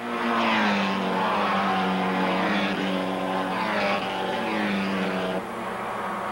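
Porsche 944 race cars roar past in a 1986 Canadian road race, engines howling loudly and steadily with rising and falling pitch as they pass, no voices.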